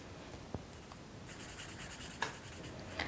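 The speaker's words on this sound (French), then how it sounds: "j'ai sorti mes deux couleurs de feutre. Et maintenant, je vais colorier l'intérieur de mes scarabées" Felt-tip pens colouring in beetle drawings on paper, a faint, continuous scratchy rubbing with a few light taps, close and quiet with no talking.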